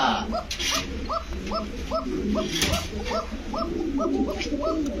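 A pigeon at a pigeon market gives a rapid series of short, thin calls in a steady rhythm, near and fairly loud, with other birds and background noise around.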